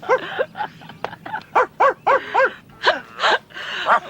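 A person imitates a dog, producing a rapid run of about a dozen short, loud barking yelps in an uneven rhythm, close and clear with no other talk.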